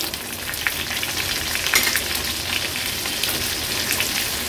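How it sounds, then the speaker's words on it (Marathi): Mustard seeds, cumin, green chillies and curry leaves frying in a hot tempering, a loud continuous crackling sizzle with scattered pops, close up and with no talking. "राई आणि जिरं तडतडलं का हिरव्या मिरच्या आणि कढीपत्त्याची पानं आपण फोडणीला घालणार आहोत।"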